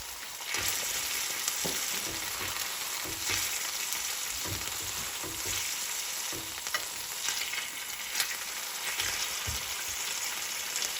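Chicken pieces fry in oil in a pan with a steady, close sizzle, broken by soft thumps and scrapes as the pieces are pressed down and moved.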